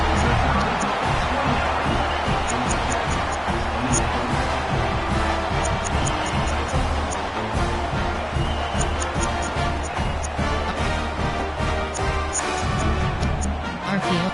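Football stadium crowd at Georgia Tech vs Missouri roaring after a two-point conversion, a loud, steady wash of cheering and noise filling the whole stretch.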